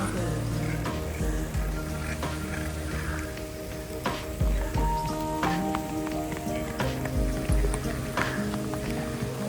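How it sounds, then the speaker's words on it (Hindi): Heavy rain pours down on an exposed hilltop, a dense steady hiss with scattered sharper patter and splashes throughout, loud and continuous. "बारिश काफ़ी तेज़ हो गई है"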